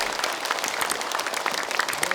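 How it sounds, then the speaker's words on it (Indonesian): An audience of men and women claps steadily to welcome an Islamic preacher, a dense, even patter of hands that stays close and constant throughout with no voices on top. "boleh kita sambut sekarang dengan tepuk tangan Ustadz Danu semua"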